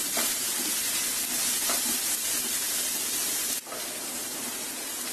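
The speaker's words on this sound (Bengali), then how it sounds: "পেঁয়াজটাকে একটু তেলের মধ্যে ভেজে নিতে হবে।" Chopped onion frying in soybean oil in a pan, a steady loud sizzle that holds unbroken for about five seconds, with a brief dip near the end and no talking.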